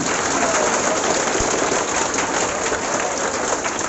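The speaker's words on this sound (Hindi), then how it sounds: "जोरदार ताली" Audience at a coaching institute ceremony claps for a high school board exam topper, a dense, steady wash of applause that holds evenly from start to finish with no voices.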